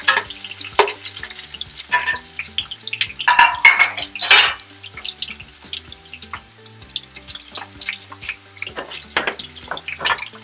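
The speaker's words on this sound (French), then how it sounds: "une fois que l'huile est chaude, on va verser les oignons et laisser brunir quelques minutes" Onions browning in hot oil on a stovetop while beef tripe in tomato sauce is prepared, with irregular clatters of a utensil stirring against the pan over a soft sizzle.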